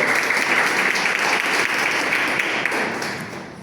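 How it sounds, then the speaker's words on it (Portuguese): Church congregation at a Wednesday evening service gives a strong round of applause, dense steady clapping filling the space before easing slightly at the end. "dê um forte aplauso ao Senhor"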